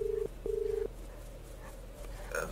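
A phone being dialled in the Straya game, a few beeping keypad tones in short bursts, then faint background ambience and a brief higher chirp at the end.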